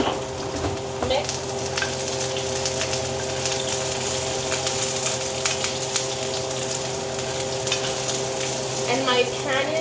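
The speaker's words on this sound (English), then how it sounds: "I'm going to go ahead and give it a little mix" Cheesesteak pepper filling stirred in a Teflon-lined frying pan, a steady sizzle with scraping and stirring strokes throughout, no talk.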